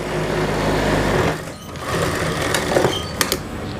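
A sewing machine stitches a churidar pyjama seam with a steady, loud whirring run for about a second before stopping, then fabric handling and a few faint clicks follow.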